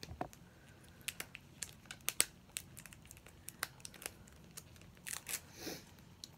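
Plastic packaging on a Mini Brands Series 5 ball capsule crinkles and snaps as it is pried open by hand, a string of sharp clicks and rustles, close and quiet, with no talk.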